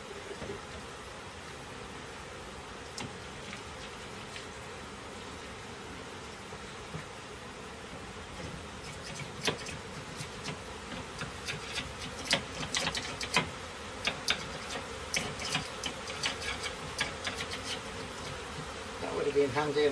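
A swarm of bees at a beehive buzzes in a dense, continuous drone throughout, close to the listener, with scattered clicks and knocks from hive handling and some faint talk.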